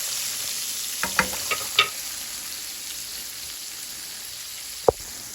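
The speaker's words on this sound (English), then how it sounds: "I'm still stirring. Sauteing my onions." Onions sauté in beef grease in a pan, a constant close sizzle broken by a few light clinks and scrapes of a utensil stirring, with one sharper knock near the end.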